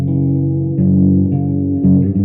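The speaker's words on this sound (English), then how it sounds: "Pump the distortion, pump the wobble, and pump the reverb" A sustained synth melody run through RC20 lo-fi distortion, wobble and reverb, with warbling, slightly detuned tones that shift in pitch across a few held notes, loud and close.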